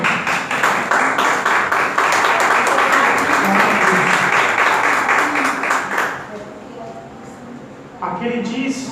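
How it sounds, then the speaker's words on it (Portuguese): A church congregation claps in praise during a service. The applause is loud and dense for about six seconds, then thins out, and a short burst of clapping returns near the end. "as palmas louvam o Senhor"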